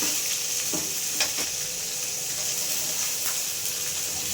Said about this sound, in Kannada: ಸ್ವಲ್ಪ ಒಂದು 2 ನಿಮಿಷ ಫ್ರೈ ಆಗಬೇಕಿದೆ